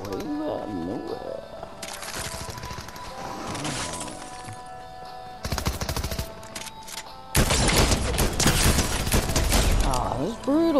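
Gunfire in the video game Fortnite, with rapid bursts of shooting and sharp, crashing impacts building to a loud, sustained volley, mixed with game effects and voices talking over it.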